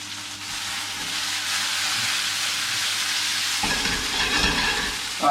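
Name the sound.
food cooking in a pan for potato ricotta gnocchi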